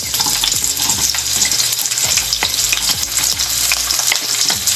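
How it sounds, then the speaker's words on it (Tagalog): Chopped onion sautéing in hot cooking oil in a pan for pork igado, a steady loud sizzle and crackle with repeated scraping stirs of a spatula, close up with no voices. "Isotin natin, unahin ko yung onion."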